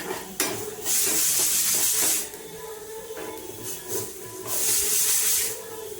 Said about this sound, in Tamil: நான் எல்லா வெங்காயத்தையும் போடுறேன்.